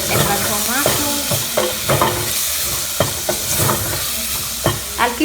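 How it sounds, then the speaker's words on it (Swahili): Tomatoes frying in a pot with beef and onions for Kenyan beef pilau, sizzling steadily while a spoon scrapes and stirs in repeated close, distinct strokes. "I'll keep on stirring though."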